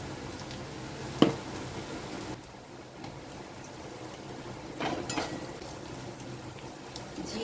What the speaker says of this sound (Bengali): আদা রসুন পেঁয়াজটা ভালো করে আমার ভাজা হয়ে গেছে।